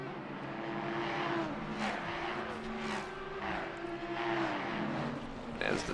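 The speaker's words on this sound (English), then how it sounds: "there is a small gap forming between the Mustang of Ormston and the Ferrari of Silth" Race cars (a Mustang, a Ferrari, an Audi and a Porsche) lapping the Barcelona circuit in a racing game, engines droning and revving continuously at moderate level, with cars passing now and then.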